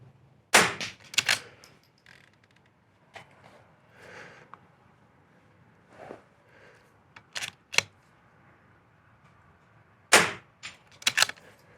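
Shots from .22 rifles at an NRL22 competition, sharp isolated cracks in small irregular clusters with quiet gaps between, some close and loud, others fainter.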